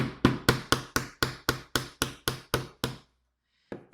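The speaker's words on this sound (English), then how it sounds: "Hammer it down." A hammer taps a part of a TanukiWorks KC02 HPA kit into place: about eleven sharp, evenly spaced knocks in quick succession, close and loud, then a pause and one last light tap, with no voices.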